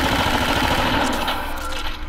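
Sustained automatic gunfire rattles in Call of Duty: Infinite Warfare, a loud, dense burst that runs continuously, then thins slightly toward the end amid game noise.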